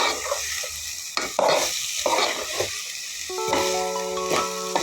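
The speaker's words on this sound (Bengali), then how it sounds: "চাউলগুলো দেওয়ার পরে সুন্দরভাবে নাড়াচাড়া করে মশলাগুলোর সাথে মিশিয়ে নিচ্ছি।" Rice is stirred into spices in a pan for egg khichuri, giving close scraping strokes and soft sizzling in uneven bursts. Brief tonal clinks ring out near the end.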